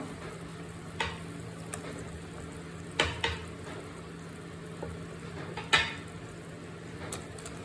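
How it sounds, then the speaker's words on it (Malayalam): Pieces of fish dropped one at a time into a bubbling Kerala-style fish curry, making a few soft plops and light clatters over a quiet, steady simmer with no talking. "ഇനി മീൻ കഷ്ണങ്ങൾ നമുക്ക് ഇട്ട് കൊടുക്കാം."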